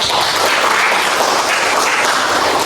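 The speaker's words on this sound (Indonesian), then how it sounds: "Tepuk tangan dulu pada." A class in a learning session breaks into dense, continuous applause that holds steady and loud from start to finish.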